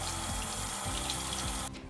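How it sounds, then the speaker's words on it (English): Water from a kitchen tap runs steadily into a sink while hands are rinsed, a continuous close splashing rush that cuts off abruptly near the end. "Give my hands a quick wash."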